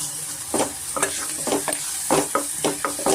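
Ginger garlic paste frying in a pan over medium flame, a bright crackling sizzle broken by repeated scraping strokes of a spoon stirring, close and without voices.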